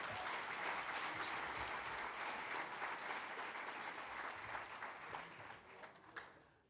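A ceremonial audience at a Namibian banknote and coin launch applauds the president, a steady, distant wash of many hands clapping that fades slightly toward the end.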